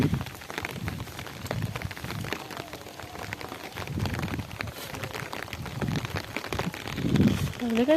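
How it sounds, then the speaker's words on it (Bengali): Soft, steady patter of light rain fills the air, with faint voices murmuring underneath throughout. "4টা থেকেই কিন্তু শুরু হয়ে গেছে বৃষ্টি। হালকা পড়ছে, জোরে পড়েনি"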